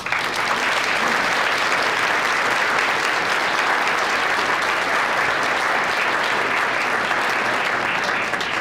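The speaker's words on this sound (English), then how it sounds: "Please give a big round of applause for our guest speaker tonight, Paul Williams." Steady, dense applause from a crowd at the 2010 St. Paul Neighborhood Honor Roll event greets a guest speaker, holding an even, full volume for nearly nine seconds with no break.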